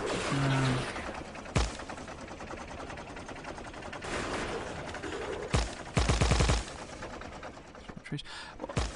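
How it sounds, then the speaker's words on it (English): A tank's machine gun fires in a video game in short, rapid bursts over a dense, continuous wash of battle noise, with sharp cracks standing out at a few moments. "machine gun on the actual tank"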